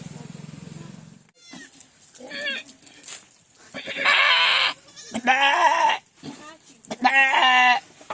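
A human voice mimics a goat bleating in several wavering, harmonic bursts, loud and close, separated by short pauses after a low hum at the start.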